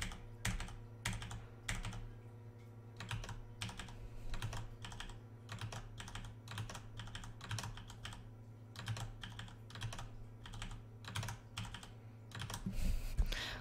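Computer keyboard keys are pressed in irregular quick bursts, mixed with mouse clicks and double clicks for copy-and-paste shortcuts. The clattering taps stay close and fairly quiet throughout, with no talking.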